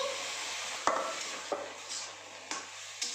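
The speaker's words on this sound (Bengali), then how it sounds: "দুধটা দিয়ে ভালোভাবে নাড়াচাড়া করে নিচ্ছি" Carrot halwa is stirred in a pan after milk goes in, a soft continuous sizzle with a few sharp spoon taps against the metal at intervals, close and moderately quiet.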